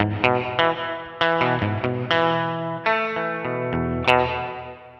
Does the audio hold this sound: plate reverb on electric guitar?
yes